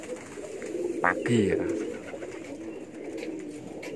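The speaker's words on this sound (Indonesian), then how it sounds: "Mau kasih makan merpati jam 5" Domestic pigeons coo at an early-morning feeding, a soft burbling call rising briefly near the middle over steady background noise, with a person speaking nearby.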